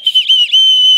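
A shrill whistle blown close and loud, a couple of short chirps followed by a sustained steady blast.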